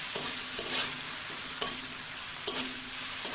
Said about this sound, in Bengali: এখন পেঁয়াজগুলো ভেজে নিচ্ছি